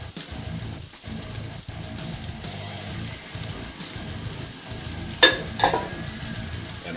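Homemade bacon and onions sizzle and crackle steadily in a pan, with soft stirring scrapes and a couple of sharper clinks of a utensil near the end.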